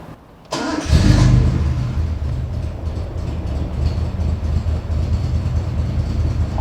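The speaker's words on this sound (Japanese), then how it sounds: "じゃあちょっともう一回エンジンかけますね" A GT-R-spec Nissan Skyline Hakosuka with an L28 engine cranks briefly and fires up loudly at close range, then settles into a rough, uneven, rumbling idle.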